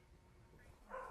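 At a kennels near a fracking site on Preston New Road, a dog lets out a single short, faint bark at the very end, over a quiet low background.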